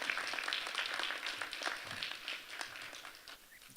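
Audience at a press conference in Bronzeville clapping, a dense, steady patter of many hands held at an even level throughout, slowly thinning toward the end.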